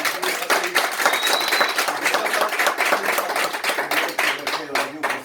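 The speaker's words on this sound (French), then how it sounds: "sous vos applaudissements" An audience bursts into steady, dense applause at an evening event with announcements and music, sharp claps filling the room continuously and loudly, with no voices standing out.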